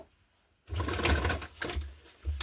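A sewing machine running a zigzag stitch through junk journal pages, starting after a short silence with a steady whirring rattle that briefly pauses and resumes, close and moderately loud.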